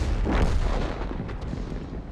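A heavy tank gun shell fired in World of Tanks, hitting the side of an FV202: one loud, booming blast near the start that rolls off into a rumbling decay and low battle noise.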